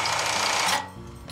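A flatbed sewing machine running at high speed under foot-pedal control, a loud steady mechanical whir that cuts off abruptly, then a quieter motor hum continues briefly.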